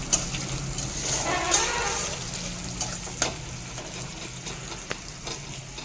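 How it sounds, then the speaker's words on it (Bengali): A steady, soft sizzle of garlic and onion frying in hot oil over low to medium heat, with a few faint clicks and pops along the way. "রসুন আর পেঁয়াজটা খুব ভালো মতো করে ভেজে নিচ্ছি"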